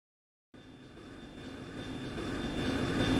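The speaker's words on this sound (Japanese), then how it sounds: "なんか聞いたことのないエンジン音のような気が。" A deep airship engine roar in Trails in the Sky SC starts abruptly and swells steadily louder, a droning hum with a whining tone as the craft lands close by.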